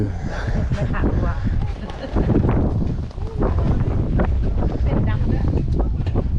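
Strong wind in Japan roars and buffets the microphone in heavy, continuous gusts while people talk underneath.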